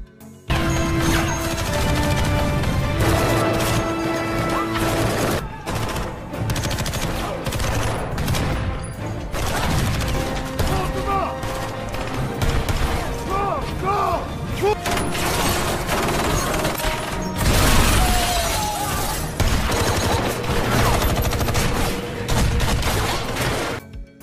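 Sustained gunfire and crashes fill an action film scene at an airplane during a plutonium heist, with dense rapid shots, booms and smashing debris running loud and continuous throughout.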